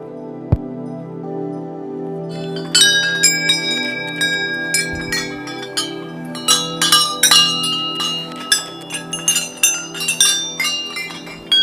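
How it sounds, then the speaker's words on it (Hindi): Many offered bells ring at a temple ashram in the forested Uttarakhand mountains. The clangs overlap and strike in uneven succession above a steady sustained ringing tone, with sharper metallic hits crowding together toward the end. "मंदिर के आसपास बहुत सारी घंटियां चढ़ाई गई हैं।"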